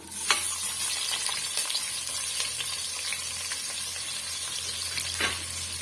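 Parboiled ration rice stir-frying in a pan with chopped onions, a continuous loud sizzle broken by scraping stirs and a couple of clinks from the utensil, with no talking.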